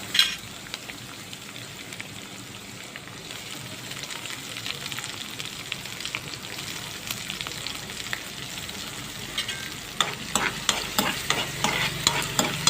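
Green chillies and finely chopped onion sauté in oil for an Idukki-style home curry, a steady crackling sizzle with stirring scrapes growing sharper and more frequent toward the end, close and alone.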